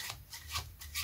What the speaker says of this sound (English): we just keep shuffling. So we're shuffling off